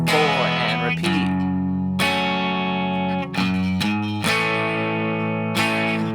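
An electric guitar with a distorted tone strums the chord progression of a song. Loud, ringing strums fall roughly once a second and let each chord sustain, moving from lower to higher strings.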